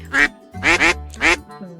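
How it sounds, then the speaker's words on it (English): A cartoonish duck quacks three times in an indie otome video game, each call loud and nasal with a short gap between them, and a softer tone trailing at the end. "At that quack, she turned to the duck on her arm."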